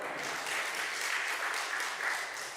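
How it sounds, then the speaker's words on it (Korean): A church congregation at an autumn evangelism festival claps together, a dense, even wash of applause that holds steady throughout at moderate volume, slightly distant. "박수 한번 치겠습니다."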